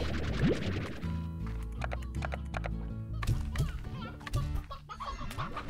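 Chickens in the video game Slime Rancher cluck and squawk repeatedly over a busy background, with occasional hoof-like clopping nearby.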